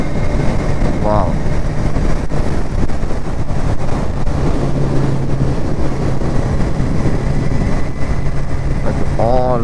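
Steady, loud wind roar buffets the microphone while riding a Kawasaki Ninja 1000 motorcycle on a highway, with engine hum underneath throughout.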